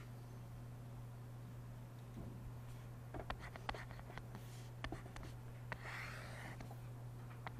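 A marker squeaks and scratches across a board during a high school physics lesson on projectiles. The writing comes in faint, scattered strokes over a steady electrical hum and room noise, and nobody speaks.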